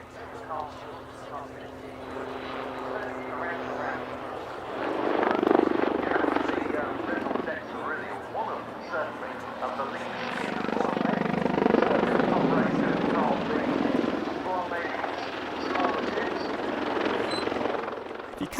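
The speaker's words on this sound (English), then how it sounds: "last year's Cosford Airshow featured the UK flying display debut of an ex-British Army Lynx" An ex-British Army Lynx helicopter flies a display at the Cosford Airshow, its rotor and turbine rumble swelling and fading as it passes at a distance, with commentary heard over the engine noise.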